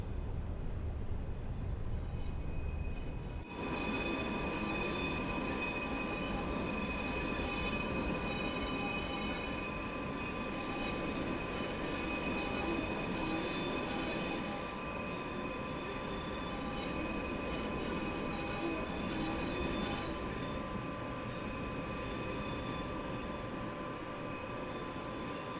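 A British Rail Class 86 electric locomotive running in Train Sim World 6, with a continuous rumbling rail roar, steady whining tones and faint wheel squeal that stay loud and even throughout, no voices.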